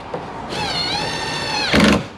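A power drill whirs up to a steady high-pitched whine for about a second, then a harsher rattling burst before it stops.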